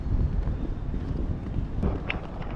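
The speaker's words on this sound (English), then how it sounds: "Nice and windy and cool up here too." Gusty wind buffets the microphone on a mountain ridge trail, coming in low rumbling surges with a faint tick or two and no talk.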